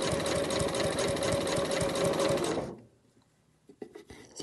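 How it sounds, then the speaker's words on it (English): Sewing machine running steadily as it stitches along the open edge of a fabric binding, loud and continuous for about two and a half seconds before stopping, followed by faint handling noises. "just sewing right on that edge there, on the open edge to close it"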